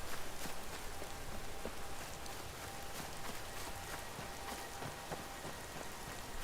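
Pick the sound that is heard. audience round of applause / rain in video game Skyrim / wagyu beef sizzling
rain in video game Skyrim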